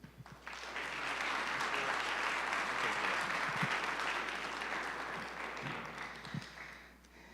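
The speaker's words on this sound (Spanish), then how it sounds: "un aplauso." An audience applauds a speaker at a church gathering: dense, sustained clapping that swells quickly, holds steady for several seconds, then thins out toward the end.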